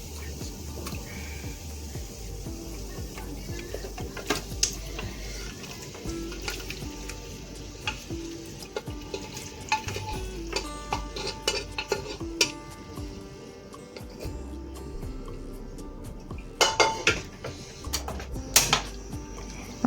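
Beef is stirred into a thick masala for Kerala-style kappa biriyani, giving a close, steady scraping of a spoon in the pot with irregular clinks and knocks against the metal, and no talk.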